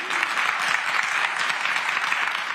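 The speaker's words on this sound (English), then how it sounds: "Y'all can clap for her." Sustained audience applause for a student at a North Carolina school gathering, a dense, steady wash of clapping from many hands that stays fairly loud and even throughout.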